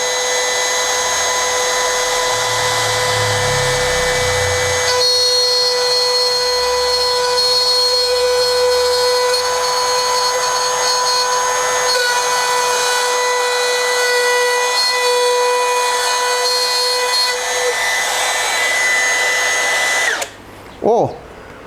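A Stanley FatMax SBW400 power tool whines loudly and steadily, its pitch shifting as it routs a groove into wood, running for a long stretch before stopping abruptly at the end.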